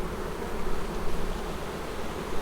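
Honey bees hum around an open backyard hive during an inspection in North Port, Florida, a steady, dense drone of many wings close by with no voices.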